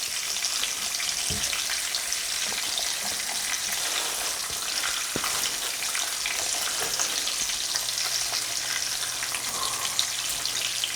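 An egg frying in a pan for a breakfast sandwich sizzles steadily and close up, with a soft scrape or two as it is flipped. No one speaks.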